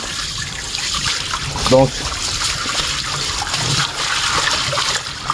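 Water runs and trickles into a kitchen sink during cleaning, a steady splashing wash with a brief louder gush, under a man's speech.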